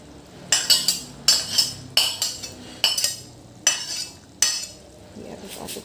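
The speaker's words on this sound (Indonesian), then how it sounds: "ini aku aduk-aduk sampai mengental" Zuppa soup mixture stirred in a pan until thick, a utensil scraping and clinking against the metal in quick repeated bursts, close and fairly loud, with a faint simmer between strokes.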